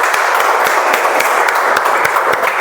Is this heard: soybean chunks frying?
no